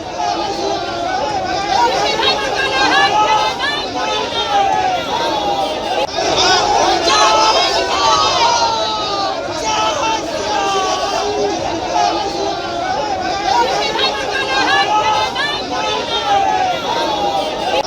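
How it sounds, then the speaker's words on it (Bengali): Political protest crowd gathered in front of a hospital in Barasat, a steady dense hubbub of many voices chattering and shouting throughout, loud and continuous with no single clear speaker. "এই মুহূর্তে হাসপাতালের সামনে বিক্ষোভ দেখানো হচ্ছে।"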